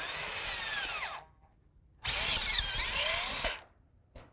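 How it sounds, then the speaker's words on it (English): A power drill bores 5/16-inch holes into a log for mushroom plug spawn, two loud bursts of whining, grinding drilling separated by a short pause, then a brief final blip. "we'll just drill a hole and we'll start plugging her"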